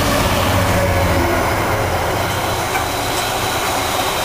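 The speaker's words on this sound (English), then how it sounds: "Another train approaching now. And it sounds like a 66. Hauling a Freightliner," A Class 66 diesel locomotive hauls a Freightliner freight train past Needham Lake, a steady loud rumble of engine and rolling wagons close by, with no talk.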